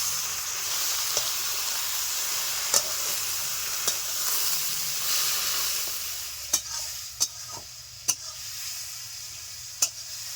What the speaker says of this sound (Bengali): কুমড়ো ফুল দেওয়ার পরে একটু হালকা জল উঠেছে, তো এই জলটা শুকিয়ে যাওয়া পর্যন্ত আমি নেড়ে ছেড়ে নেব।